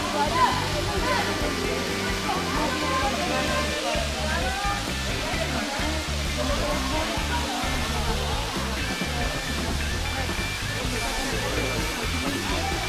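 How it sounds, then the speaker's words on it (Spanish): Waterfall at El Salto in Mazamitla, a steady broadband rush of falling water filling the whole stretch, with people talking faintly beneath the constant roar. "venir a esta cascada del Salto en Mazamitla y han visto más agua"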